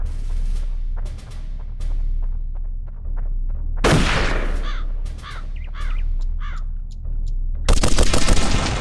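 Gunfire from a Russian soldier in the video game Darkest of Days, with scattered sharp reports across the scene, a dense burst of shots near the middle and another loud volley at the end, over a low rumbling backdrop.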